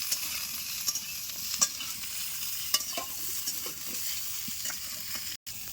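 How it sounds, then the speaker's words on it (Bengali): Cauliflower florets frying in a pan, with a steady sizzle and scattered scraping stir strokes throughout, a few sharper clicks, close and moderately loud, no talking. "আমি এইদিকে ফুলকপিগুলো ভেজে নিচ্ছি।"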